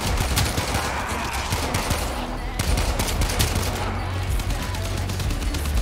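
Video game gunfire rattles in rapid, dense volleys throughout, with sharp shots layered over a continuous noisy battle bed.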